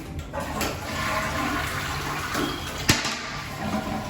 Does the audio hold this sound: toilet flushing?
yes